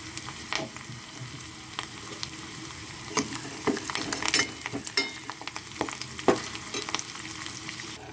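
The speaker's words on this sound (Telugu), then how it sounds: "కరివేపాకు వేసుకుంటున్నాను. కొంచెం ఇంగువ వేసుకుంటున్నాను." Curry leaves, green chillies and a pinch of asafoetida sizzle in hot tempering oil, a close, continuous crackle with scattered sharp pops and scraping stirs.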